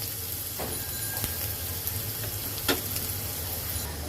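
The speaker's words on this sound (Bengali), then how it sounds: "পেঁয়াজটাকে আমি আগে একটু সুন্দর করে ভেজে নিই" Onions fry in a pan for a goat liver curry, a low steady sizzle with a few faint stirring clicks and scrapes.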